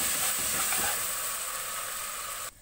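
Ginger garlic paste with spices, including cloves, fries in a pan with a steady, bright sizzle that holds evenly throughout and then cuts off sharply at the end.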